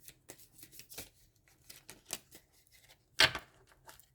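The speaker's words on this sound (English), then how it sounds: "these cards are super hard to shuffle" Tarot cards being shuffled by hand make a close, dry run of soft irregular taps and flicks, with one louder riffling burst near the end; no voices.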